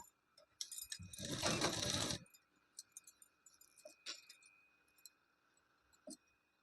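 A sewing machine stitches a belt onto a blouse in one loud, dense burst of running stitches, followed by scattered light clicks and taps of handling, with no voices.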